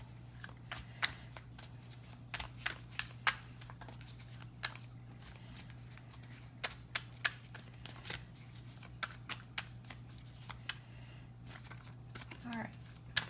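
Tarot cards are shuffled in quick, irregular riffles and taps, close but quiet over a steady low electrical hum, continuing for several seconds.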